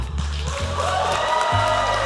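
A convention audience at a Spy x Family voice-actor panel claps and whoops, sustained applause with cheering under booming low hum, loud and continuous.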